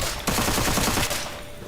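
Rapid automatic gunfire in the video game Witchfire, a dense steady burst of close, loud shots lasting under a second before tailing off, with no talk over it.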